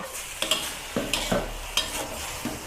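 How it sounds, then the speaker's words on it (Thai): Glass noodles stir-fried with minced pork and basil in a pan, with a handful of close, scraping spatula strokes, each flaring briefly over a soft background sizzle. "เนี่ยแล้วเราก็ผัด ให้วุ้นเส้นมันมีความนิ่ม"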